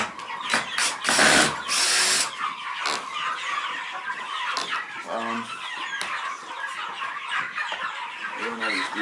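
Cordless power drill backing screws out of a turkey enclosure on a farm, heard as short whirring bursts amid clucking fowl, with faint talk in places.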